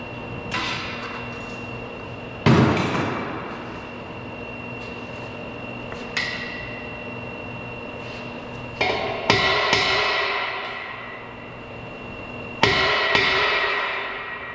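Several sharp metallic strikes of a hammer on a pasteurizer's metal frame ring out at irregular intervals, each with a bright lingering ring, over a steady low background hum.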